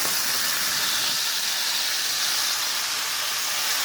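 A ribeye steak searing in a Lodge 10.25-inch cast iron deep skillet, a loud, even, continuous hissing sizzle heard up close, with no voices.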